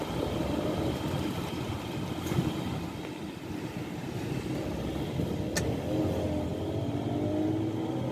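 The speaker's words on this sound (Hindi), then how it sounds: "इसका इनिशियल पिकअप देखते हैं" A Skoda Rapid with a 1.0 TSI three-cylinder engine pulls away from a standstill, its engine note rising steadily as it builds speed, heard from inside the cabin over a continuous road rumble.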